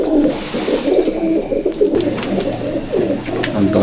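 Racing pigeons at a Kolkata pigeon-flying match coo close by, several birds overlapping in soft, rolling, throaty calls that pulse continuously, with a low steady murmur beneath in the later part.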